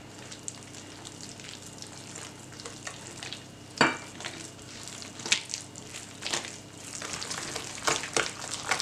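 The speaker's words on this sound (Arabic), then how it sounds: "غادي نمروا باش نضيفوا البيض وحتى هو ندمجوه مزيان مع هذه الزبده" Eggs being worked into creamed butter in a bowl for a sweet dough, with a steady close scraping and stirring texture and a few sharper clinks and knocks scattered throughout, no voices.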